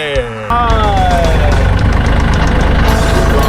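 A car engine runs loudly and close by as a vehicle pulls up at a large chili farm in Isan, Thailand, a steady low rumble starting abruptly after a brief moment and holding to the end.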